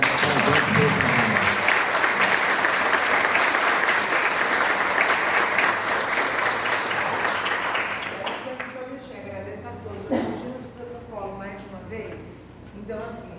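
Sustained audience applause at a mental health awareness event, a dense wash of clapping that fills most of the span, then thins out toward the end as scattered claps and voices take over.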